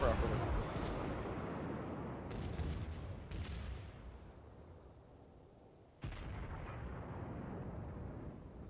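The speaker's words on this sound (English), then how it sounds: "Firing my guns properly." Guns firing in a wargame video game, several deep booming blasts that decay, with a sharp new shot near the end, under a speaking voice.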